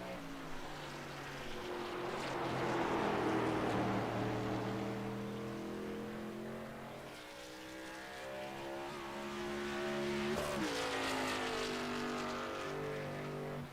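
Engine of the 121 racing truck lapping in a truck series race in a racing game, a loud droning whine that climbs and falls through gear changes, with a sharp shift midway.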